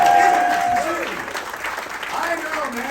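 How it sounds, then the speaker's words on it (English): An audience at a headliner comedy show aboard the Royal Caribbean cruise ship Allure of the Seas applauds, strong at first and then fading, while someone talks over the clapping. "Give yourselves a nice round of applause."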